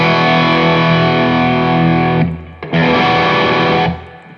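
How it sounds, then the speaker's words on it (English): An electric guitar heavily overdriven through an Ibanez TS808 Tube Screamer pedal rings out thick and sustained, cuts off briefly, then strikes again and holds before stopping. "That is overdriven now."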